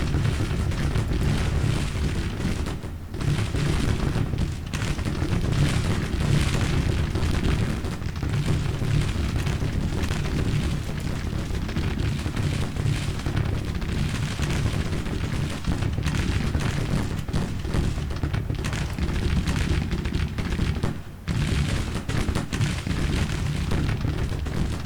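Massed musket and cannon fire in the Civil War strategy game Grand Tactician, a dense continuous rumble of booms and volleys filling the scene, loud and unbroken, no talk.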